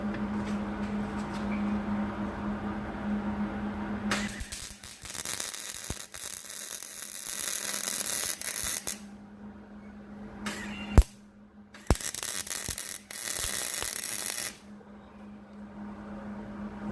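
Arc welding on a steel woodturning tool rest, a harsh crackling buzz in several long bursts separated by brief pauses, close and loud with no talking.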